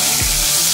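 Onions frying in hot oil in a pan for a gawar ki fali keema dish, a steady broadband sizzle that fills the short moment without a break and with no voices.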